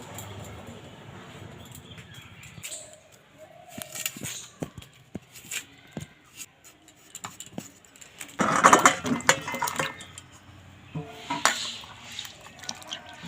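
Kitchen prep of ginger, garlic, onion, chilli and tomato in a village kitchen: scattered clinks of utensils and dishes, splashes of rinsing water and knife taps, with a louder clattering wash burst midway, quiet between.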